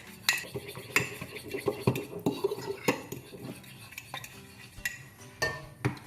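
Gelatin mixture being stirred into melted white chocolate for a white chocolate raspberry tart, with a utensil clinking and scraping against a bowl in irregular close taps and swishes.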